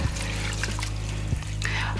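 Water trickles and splashes while herbs are washed in water with apple cider vinegar, a continuous close pouring sound over a low steady hum with small knocks.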